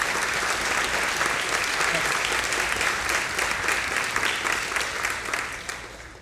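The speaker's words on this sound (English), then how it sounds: "So a big round of applause to our employees." A big round of audience applause for employees at a Producers Guild of America event, a thick, even roar of many hands clapping that holds steady and fades slightly at the end.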